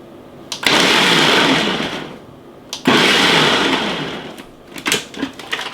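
A kitchen chopper whirs loudly as it minces onion, running in two long bursts of about two seconds each, then a few short pulses at the end.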